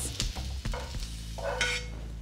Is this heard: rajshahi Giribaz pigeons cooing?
no